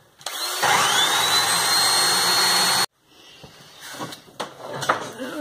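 A power drill whines loudly at high speed for a couple of seconds while tapering a countersink bit, then stops, followed by quieter scraping and clinking of metal.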